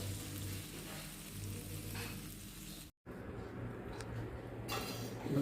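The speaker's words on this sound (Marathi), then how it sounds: "आता शेंगदाणे वगैरे पण छान तेलामध्ये खरपूस झाले पाहिजे" Peanuts and green chillies crackle and sizzle in hot oil while being roasted for a raw tomato chutney, a steady close frying hiss with a brief dropout midway and some stirring noise.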